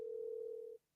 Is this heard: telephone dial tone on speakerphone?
yes